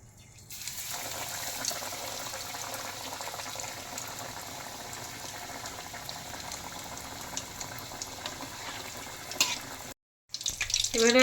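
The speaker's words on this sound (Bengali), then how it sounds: "তেলটা আমার গরম হয়ে গেছে। এবারে আমি ফ্রাই করার জন্য মাছটা ছাড়বো।" Bhetki fish frying in hot oil, a steady loud sizzle and bubbling that runs almost without break, briefly cutting out near the end before resuming.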